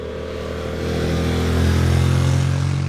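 2025 Honda NC750X motorcycle riding along with a steady, loud engine drone and low rumble that builds slightly partway through, alongside wind noise.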